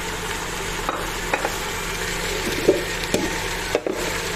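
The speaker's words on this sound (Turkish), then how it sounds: "Şöyle 1-2 dakika kadar kavuralım türlümüzü." Turlu vegetable stew of beans, zucchini, eggplant and potato sautéing in a pan, a low continuous sizzle with a few light scraping and clicking stirring knocks.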